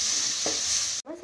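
Tomato sevai mixture with turmeric fries and sizzles steadily in a pan as it is stirred, a continuous close hiss with a brief scrape, cut off abruptly near the end.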